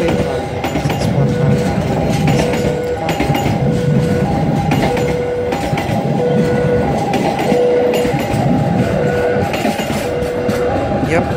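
The Argo Bromo Anggrek passenger train runs past on an Indonesian line, a loud, close, continuous rumble with rhythmic clickety-clack of wheels over rail joints, a few faint whistle-like tones and some faint voices.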